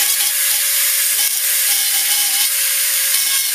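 A Dremel rotary tool fitted with a burr etches into an aluminum blank, giving a steady high-pitched whine with a bright grinding hiss, close and continuous for a few seconds.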